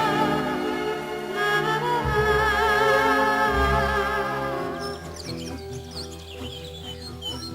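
Great tit chirping in winter, a few scattered high calls in the second half over steady instrumental music that stays louder throughout.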